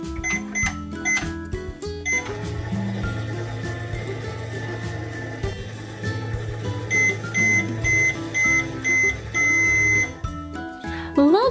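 A toy microwave hums steadily under a bright musical jingle, then gives a series of loud, evenly spaced electronic beeps near the end.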